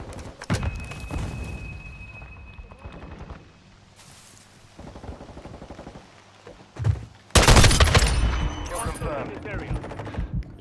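Gunfire and a frag grenade in Call of Duty: Modern Warfare II on the Lighthouse map, with rapid bursts of shots, a lull, then a loud, sustained blast near the end.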